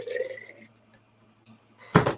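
Water is poured into a glass in one short, loud burst near the end, after a quiet stretch that opens with faint background tones.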